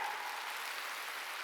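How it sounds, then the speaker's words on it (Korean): Congregation clapping hard during a Korean church worship service, a dense steady wash of applause filling the whole clip at moderate level. "박수를 좀 치라고. 더 세게."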